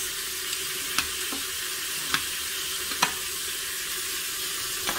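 Meat searing in a Ninja Foodi pot for pot roast: a steady, soft sizzle holds throughout, with a few faint clicks and taps over it.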